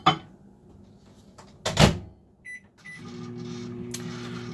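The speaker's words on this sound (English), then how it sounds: "give it 1 more minute in the microwave" Clicks and a door thump lead into a microwave oven starting up to reheat potatoes, its steady low hum running beneath a couple of beeps.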